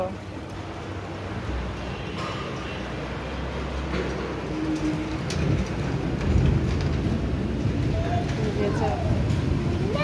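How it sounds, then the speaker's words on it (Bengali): Light rain falling outside a house, a steady, even hiss of drops with low rumbling underneath, while an adult and someone talk over it throughout. "অল্প বৃষ্টি।"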